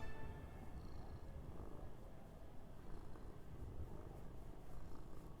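A pet cat purrs steadily and continuously close by, a low rumbling drone that holds through the whole stretch.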